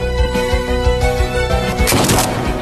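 Gunshots crack out in a rapid burst of repeated loud, close bangs, then end in a bright, noisy crash.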